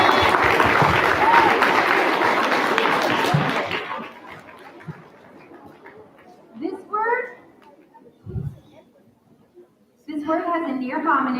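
A spelling bee audience gives a loud burst of applause for about four seconds after a contestant's wrong answer, then it dies away and a speaker's voice follows with short gaps.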